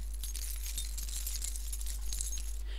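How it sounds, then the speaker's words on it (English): Keys jingle and rattle continuously, with bright metallic clinks and chinks close by over a low steady hum. "My next sound is of some keys rattling."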